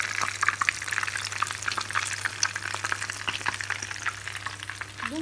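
Brik pastries sizzle and crackle in hot frying oil after being turned to brown the other side, a dense, continuous close-up spatter with a low steady hum beneath.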